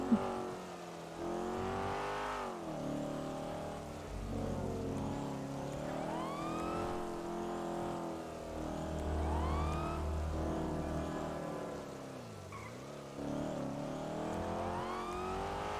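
A loud car engine in Grand Theft Auto V roleplay revs continuously, pitch rising and falling as it accelerates and shifts, with synthetic game-style tone and no voices.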